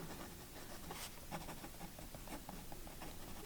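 A Wing Sung 601 fountain pen nib dragged upside down in reverse writing across paper, giving a faint, continuous scratchy rasp with small stroke-by-stroke ticks, close up and alone.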